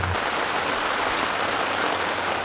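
Steady heavy rain pours down at a carp fishery, a dense, unbroken hiss close around the listener with no voices.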